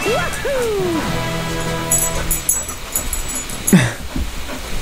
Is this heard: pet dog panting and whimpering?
yes